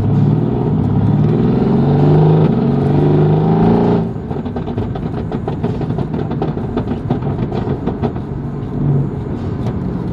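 2023 Dodge Hellcat engine revving hard, a loud deep roar held for a few seconds, then dropping to a rough, rumbling idle with popping crackles.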